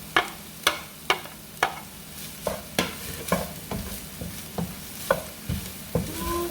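Garlic sizzles softly in a pan while a spoon knocks and scrapes against it in a steady rhythm of about a dozen sharp taps, close by with no talking.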